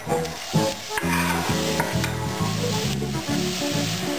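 Onion stirred into hot oil with cloves and caraway seeds, sizzling steadily throughout while a utensil scrapes and stirs in a repeating rhythm, close and fairly loud with no talking.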